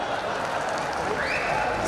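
Audience at a Hindi comic poetry gathering, kavi sammelan, keeps up dense continuous applause at an even level throughout, with a voice talking over the clapping.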